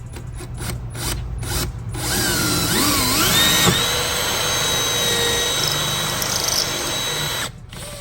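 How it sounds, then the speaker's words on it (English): A power drill whirs steadily for several seconds, its pitch rising as the bit spins up, then stops abruptly near the end after punching through while installing a sound system on a Sea-Doo watercraft; a few clicks come first. "punch straight through with your drill"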